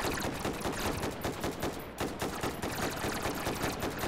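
Rapid gunfire in the VR shooter Hot Dogs, Horseshoes & Hand Grenades, a dense continuous barrage of overlapping shots with a brief dip midway, loud and steady with no talk.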